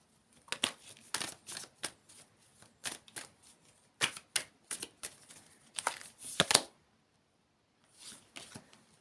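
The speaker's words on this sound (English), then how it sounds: "So let's get some cards out with the Gilded Tarot." A Gilded Tarot deck being shuffled and drawn, a string of crisp close card flicks and riffles in quick irregular bursts, then a short pause before a few more card sounds, with no voice.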